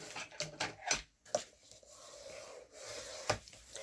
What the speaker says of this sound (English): you need to take your 1/2 inch and get that burnished nicely